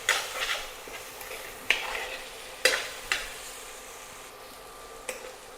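A potato mezhukkupuratti stir-fry with masala is stirred in a pan, with a soft continuous sizzle broken by several sharp scraping clacks of the spoon against the pan, spaced irregularly and fairly close.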